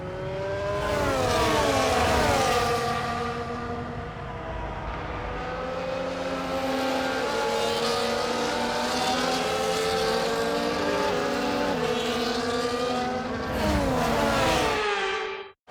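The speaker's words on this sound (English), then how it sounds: "the formation lap is underway ahead of today's sprint" Formula 1 race cars in the F1 24 video game on a formation lap at Spielberg before a sprint, several engines droning and revving continuously with shifting pitch, loud and close throughout.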